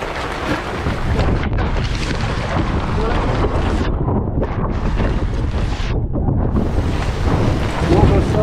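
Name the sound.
thunderstorm wind on a lake with a cabin boat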